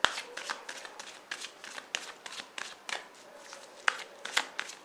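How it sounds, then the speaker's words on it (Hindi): Tarot cards are shuffled and drawn by hand in a quiet room: soft, irregular riffling flutters and light card snaps at close range, with no talking. "एक और कार्ड निकालेंगे।"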